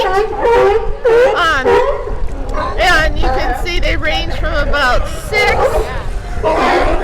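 A young California sea lion, about eight years old, barks repeatedly in loud, close, rough calls at an ocean shore, with a voice talking between the barks.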